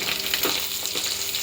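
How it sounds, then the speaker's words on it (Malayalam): Fish frying in oil for a fish pickle, a dense, close, continuous sizzle heard on its own. "മീനൊക്കെ അങ്ങനെ വറുത്ത് മുരിഞ്ഞ് വരുന്നുണ്ട്"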